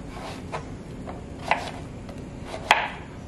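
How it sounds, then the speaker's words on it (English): Knife slicing zucchini into half moons by hand on a board, a few soft cuts spaced out over a quiet background, with two sharper taps near the end. "I'm just gonna slice them by hand. Just need to slice them as half moons."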